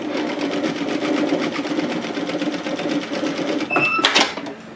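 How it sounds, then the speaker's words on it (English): A sewing machine runs steadily, stitching a second row through sherpa fabric with a knit edge, a close, continuous mechanical whir that speeds up and ends with a brief burst near the finish. "I might just sew a second row in there."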